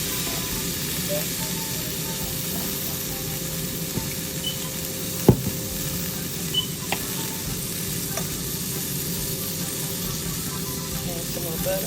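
Asparagus frying in butter in a pan makes a steady low crackle and hiss, with a few faint clicks and a short spoken word over it.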